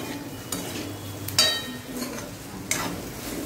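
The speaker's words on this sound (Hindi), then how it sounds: "अब मैं इसमें भिंडी भी डाल देती हूँ, ये भी इसके साथ फ्राई हो जाएगी।" Okra and potatoes fry in a pan with a low, steady sizzle, punctuated by two or three sharp utensil clicks against the pan.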